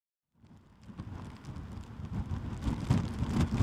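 Heavy rain with strong gusting wind during a storm in India, a dense steady roar that builds and grows louder toward the end, with no voices.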